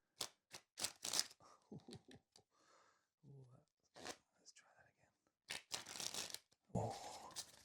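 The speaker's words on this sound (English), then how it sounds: "Different types of shuffling" Quiet riffling and crisp flicks of playing cards being shuffled, several bursts spaced apart, with soft talking in between.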